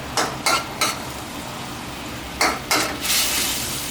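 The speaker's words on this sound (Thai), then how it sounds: "เดี๋ยวชิมรสชาติได้เราก็จะเอาขึ้นช่ายลงไปผัดนะฮะ" Celery is stir-fried with tilapia in a pan: sharp spatula scrapes and clanks come in two quick bursts of three strokes each, with a soft sizzle beneath and a brief hiss at the end, all close and with no talking.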